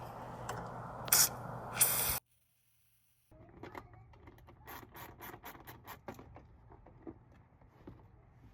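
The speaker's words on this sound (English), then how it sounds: "I prefer to use Blaster and just spray it on there" Two short hissing bursts of Blaster penetrating oil from an aerosol can, a moment of silence, then a series of rapid mechanical clicks and rattles close by while replacing glow plugs on an LBZ Duramax.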